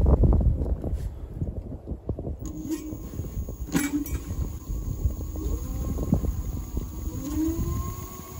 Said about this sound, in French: on va mettre les moteurs en route hein, pour vous montrer que ça tourne